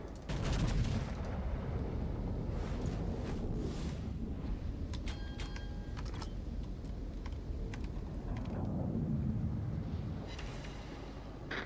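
Distant naval cannon fire from a World of Warships battle, heard as scattered sharp reports and rolling booms over a steady low rumble of sea and engine noise, with no talk.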